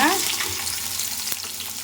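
Chopped onion goes into a hot pan while making masala macaroni, giving a steady close frying sizzle throughout with a brief sharp clatter near the end and no talking.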